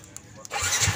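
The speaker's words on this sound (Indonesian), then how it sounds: "Motor ini akan otomatis hidup tanpa kunci kontak ya" A Yamaha Vixion motorcycle starting without a key through a fitted remote alarm: after a faint hum, a short crank and the engine catching in the second half, close and rising in loudness.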